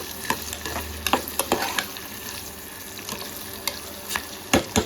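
Onion cooks in hot oil for a prawn and bottle gourd curry, sizzling steadily while a spoon stirs with scattered scraping clicks, close up and without speech.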